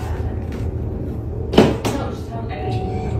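A door swinging shut in a house at night, a single short thud-like knock in a quiet room with steady background hiss, followed by softer faint clatter.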